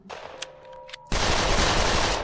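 A gunshot in the zombie video game 13 Days In Hell bursts out loud and abrupt, then a dense crackling wash of noise sustains for over a second after quieter game tones.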